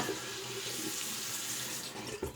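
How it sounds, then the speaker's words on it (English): Tap water runs steadily into a shaving bowl, a close, continuous splashing stream with no voices over it. "so let's get some water in the bowl."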